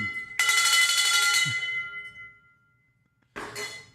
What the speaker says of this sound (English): We're going to do a self bell ring.